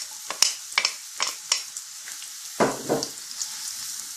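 Chopped onion hitting hot sunflower oil in a pan, a crackling sizzle with several sharp spatters early on and a louder burst of frying midway, close and alone without voices.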